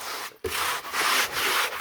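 Hand rubbing cleaner into boat carpet, a close, steady scratchy brushing swish back and forth after a brief pause at the start.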